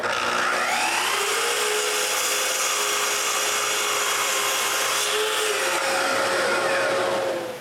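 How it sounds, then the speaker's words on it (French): A power tool whines loudly and steadily while it cuts wooden rails to length for a bathroom cabinet. The pitch dips as the blade bites into the wood, then rises again as the cut finishes near the end. "je peux couper toutes les traverses à la bonne longueur"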